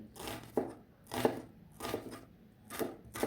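A knife slices through an onion on a cutting board in four or five evenly spaced, crisp close strokes, each cut a short crunchy tap with quiet gaps between.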